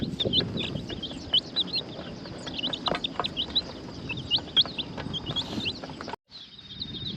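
Young chickens chirp and cluck while being fed roly-polies, a busy stream of high peeps and short calls close by with small thuds of pecking, briefly dropping out near the end.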